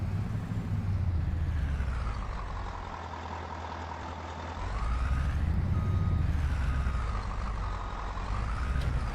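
Truck in the video game Farming Simulator 22, its engine droning and swelling in pitch as it moves, with repeated high reversing beeps ringing steadily over the motor; no speech.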